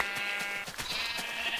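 A Minecraft sheep gives a couple of short, nasal bleats close up, clear and alone with no talking.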